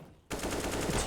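Rapid gunfire from a CS:GO match erupts suddenly after a brief quiet moment, with shots punching through a wall in a dense, sustained burst that stays loud and close until the end.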